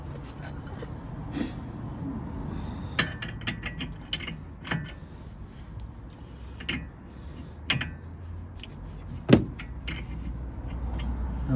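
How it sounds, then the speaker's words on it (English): A spanner working on the tie rod end of a Toyota Avensis T27, with scattered metallic clicks, ratcheting and clinks of tools against metal in a workshop, separated by gaps. "Just use the spanner to snug it up."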